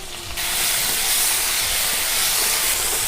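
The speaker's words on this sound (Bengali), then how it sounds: "পেঁয়াজটাকে একটু লাল করে ভেজে নেব।" Chopped tomato hits frying onions in a hot pan, bursting into a loud, dense sizzle and hiss that holds steady for a few seconds.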